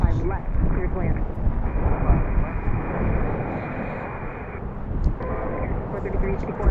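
An airliner takes off from a runway at BWI airport in Baltimore, its jet engines a loud sustained broadband roar that holds steady and slowly eases, with a voice talking over it.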